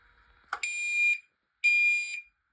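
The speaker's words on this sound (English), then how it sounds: "The fire alarm appears to be a false alarm." A school fire alarm sounds in two loud, harsh electronic blasts with a short gap between them, following a brief faint noise at the start.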